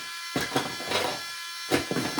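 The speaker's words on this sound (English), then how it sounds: "Brain damage now at the center of the box, spinning up, hits the screws." A spinning combat robot weapon whines up in a competition arena, a loud buzzing motor tone rising and falling in bursts.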